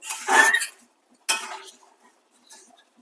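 Metal clinks from a lid being set onto a cooking pot of chicken coriander pulao, two sharp close clatters about a second apart followed by a faint rattle, with no talking.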